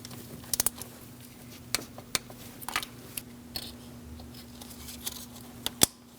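An ignition coil on a Chevrolet HHR 2.4L four-cylinder engine snaps into place, giving several sharp, quiet clicks over a faint steady hum.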